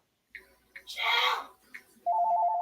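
A phone ringtone starts near the end with a steady warbling electronic tone, preceded by a soft voice and a few faint clicks and chirps.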